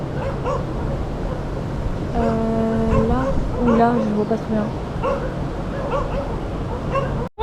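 Stray dogs barking and yelping outdoors, a short run of sharp barks and whimpering yips in the middle, moderately near, mixed in with a person talking.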